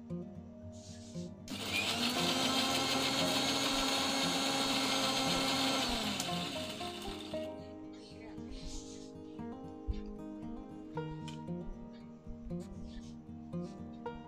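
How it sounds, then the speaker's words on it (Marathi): A kitchen mixer grinder blends passion fruit pulp, a loud, steady whirring roar for about six seconds that then stops, followed by someone talking in a quiet room. "हे सगळं मिश्रण आता आपण एकत्र करूया आणि मिक्सरला वाटून घेऊया."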